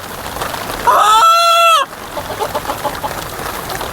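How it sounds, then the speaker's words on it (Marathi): A native desi gavran rooster gives one loud, close, drawn-out call lasting under a second, set against quieter clucking and farmyard background noise. "तर ही आपली प्युअर गावरान कोंबडी आहे"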